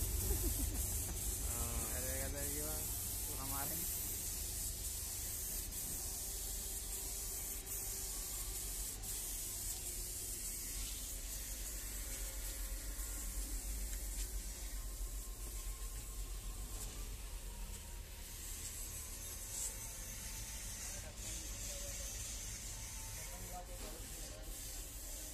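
Paint sprayed from a makeshift rig built on an oxygen cylinder gives a steady, loud hiss that runs through the whole stretch, with people talking briefly near the start.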